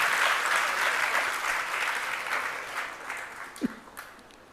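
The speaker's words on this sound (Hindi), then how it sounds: "तालियां बजा दी, पहले बार में क्यों नहीं बजाई?" An audience applauds during a Hindi Jain religious sermon, the steady crowd clapping holding strong, then thinning out and fading to a few scattered claps at the end.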